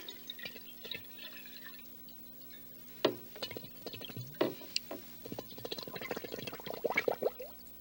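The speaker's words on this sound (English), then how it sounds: "I'll take this milk bottle and turn it upside down in the water. Oops, it's tippy. It'll tip over right away. So I'm going to fill it with water." Milk bottle being filled with water, faint gurgles and glugs building in irregular bursts over several seconds with a few clinks, quiet and close, no talking.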